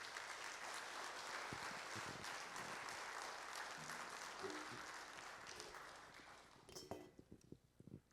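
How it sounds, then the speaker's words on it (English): A crowd at a Good Dads graduation ceremony applauds the graduating fathers with steady, sustained clapping that fades after about seven seconds, leaving a few scattered claps and light clinks. "Give them a round of applause"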